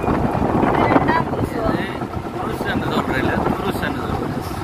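Strong wind blows beside rushing floodwater at an irrigation sluice in Jaffna, a steady broadband roar with gusts buffeting the microphone for the whole stretch.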